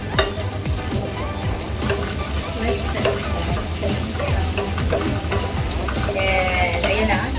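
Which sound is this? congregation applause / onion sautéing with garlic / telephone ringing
onion sautéing with garlic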